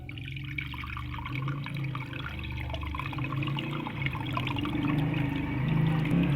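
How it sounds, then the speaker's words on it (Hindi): Water from curdled milk for paneer runs steadily through a muslin cloth, a continuous close trickle and pour that grows slightly fuller toward the end. "ऐसे पानी छान लेंगे।"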